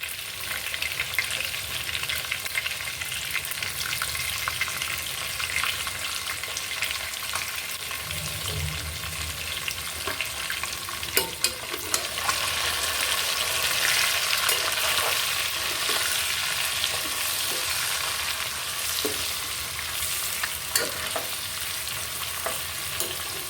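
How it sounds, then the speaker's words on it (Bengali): Potatoes and eggs fry with turmeric in a pan, giving a continuous bright sizzle with intermittent scraping and stirring sounds. "এগুলো আলু আর ডিমকে একটু ভালো করে ভেজে নিব"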